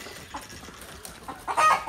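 Desi hens in a coop give a few short clucks and murmurs, ending in a louder squawking burst, close by with a faint background hum.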